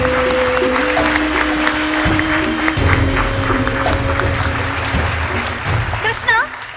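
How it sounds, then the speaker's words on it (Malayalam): An audience at a stand-up comedy show applauds to welcome the judges to their panel seats, the clapping sitting under steady talk and music with a few brief cheers near the end. "വലിയൊരു കൈയടി കൊടുത്തുകൊണ്ട് അവരുടെ ജഡ്ജിങ് പാനൽ സീറ്റിലേക്ക് സ്വാഗതം ചെയ്യാം"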